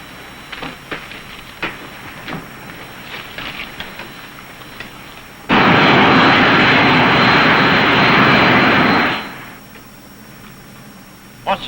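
A propeller airplane engine holds at about 2,000 RPM during a climb. A steady engine drone sits under the cabin sound, then a loud, close roar runs for about four seconds and fades back down.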